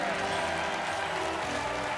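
Studio audience applause for the winner of a trip to Mauritius during a televised charity game show, a dense continuous wash of clapping over the full clip, mixed with crowd voices.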